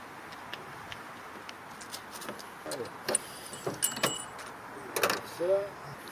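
Metallic clicks, jangles and clunks as a folded bike trailer is unfastened from a bike rack on a car, irregular handling sounds up close, with a brief voice in between.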